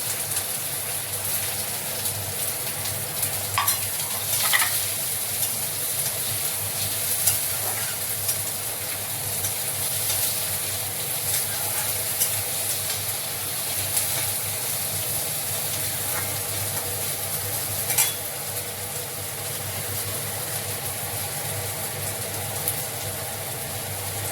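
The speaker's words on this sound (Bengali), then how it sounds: "এবার এতে পেঁয়াজটাকেও দিয়ে দিলাম" Onion frying in hot oil in a wok after garlic and ginger went in: a steady, even sizzle runs throughout with a few sharper crackles and pops, close and alone with no talking.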